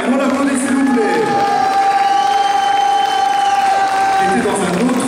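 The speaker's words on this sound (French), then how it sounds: "On l'applaudit, s'il vous plaît." Crowd at a manga and gaming convention cosplay contest applauds and cheers a contestant, with clapping, shouts and whoops mixed over music with a sustained tone, voices also audible.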